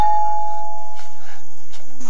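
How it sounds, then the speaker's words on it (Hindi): A doorbell rings at a large door, a loud sustained electronic chime with a few repeated tonal strikes over about two seconds, close and clear with no talk. "हाँ, वहां है घंटी।"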